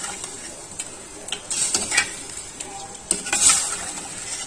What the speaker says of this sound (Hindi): चिकन तकरीबन भुनने वाली है।